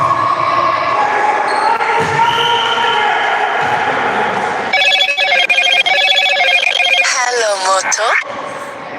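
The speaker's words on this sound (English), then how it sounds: "Sorry about the phone call coming in" A telephone rings during a live-streamed intramural volleyball championship in a gym, its repeated electronic tones loud over a busy hall with balls bouncing and crowd noise.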